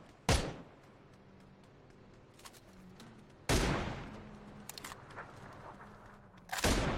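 Video-game gunfire comes in three sharp, loud bursts, each with a sudden crack and a short trailing rattle, spaced a few seconds apart over a low background hum.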